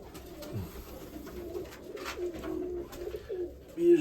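Young flying pigeons coo softly nearby in a pigeon loft, low murmuring calls repeating over a quiet background.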